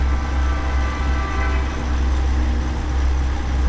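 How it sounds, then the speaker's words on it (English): A train passes alongside a truck in American Truck Simulator, a steady, low rumble of rail wagons mixed with engine drone, continuous and fairly loud with no talk. "Oh, sounds like there's a train racing me."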